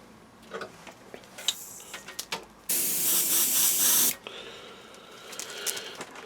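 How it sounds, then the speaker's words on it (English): A can of yellow spray paint hisses in one steady burst of about a second and a half over a landing pad stencil, framed by light clicks and handling noises before and after. "So we'll just spray the areas we need to be yellow."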